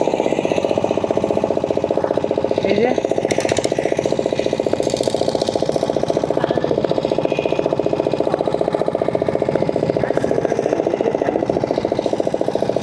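A boat's engine throbs loudly and steadily as the boat sets off near Udaypur and Talsari beach, a constant close mechanical drone with rattling, and a person speaks briefly over it.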